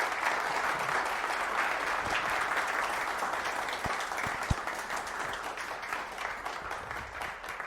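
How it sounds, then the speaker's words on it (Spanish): Sustained audience applause at a book presentation event, a steady dense wash of many hands clapping that holds evenly at moderate level for the whole stretch, with no voices over it. "creo que mereces un aplauso"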